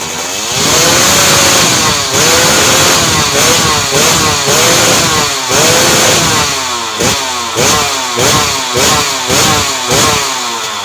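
A loud 125cc motorcycle engine runs steadily, its pitch dipping and rising as the throttle is blipped repeatedly, close up with no talking.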